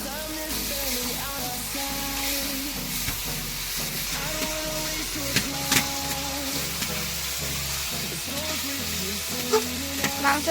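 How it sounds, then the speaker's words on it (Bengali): Chicken pieces being kosha-fried in a pan give a continuous close sizzle, with repeated scraping and stirring strokes and occasional clinks against the pan throughout. "মাংসটা কষা চলছে।"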